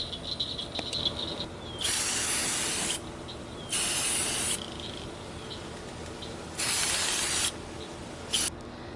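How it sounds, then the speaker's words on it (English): High heat clear coat for car engines sprayed from an aerosol can onto a thrift store glass bird feeder: three long hissing bursts of about a second each, close and steady, then a brief final puff, with quiet pauses between. "I have this high heat clear coat that I bought at Walmart. It's for car engines, but I'm going to go ahead and spray that on here right now."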